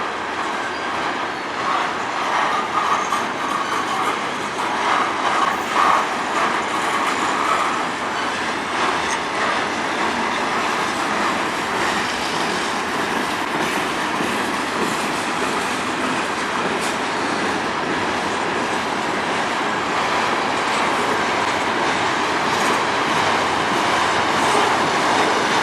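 A long freight train rolls past in Sarnia, Ontario, with a loud, close, continuous rumble, rhythmic clickety-clack from the wheels and occasional metallic squeal, and no talking.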